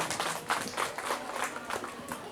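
A school farewell ceremony for sixth-grade students fills with steady applause from the gathered audience, dense continuous clapping at moderate distance with crowd murmur mixed in.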